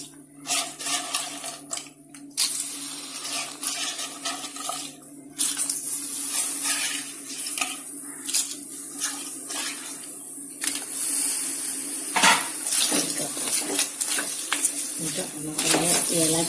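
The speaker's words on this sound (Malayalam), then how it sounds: "അപ്പൊ ഞണ്ട് നമ്മൾ അതിലേക്ക് ചേർത്ത് കൊടുക്കുകയാണ്." Crab pieces added to a pan of frying masala for a Kerala-style crab curry, with steady loud sizzling and spattering, plus scraping and stirring sounds throughout.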